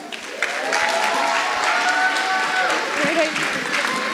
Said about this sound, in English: Big round of applause for Hayes Bilingual.